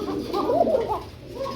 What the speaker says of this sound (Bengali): তো এটা হচ্ছে কুকা কবুতর না ভাই?